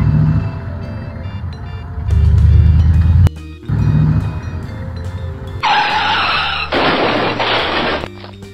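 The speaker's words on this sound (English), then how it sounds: "I'm gonna take Batman's Batmobile for a spin." A toy Batmobile being driven, with a loud, close engine roar that rises and cuts out, followed by harsh hissing skids and tire squeals near the end.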